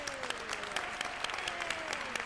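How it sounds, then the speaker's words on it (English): A community listening-tour audience applauds steadily, with dense clapping at a moderate distance and a faint tone running under it. "Let's give her another round of applause"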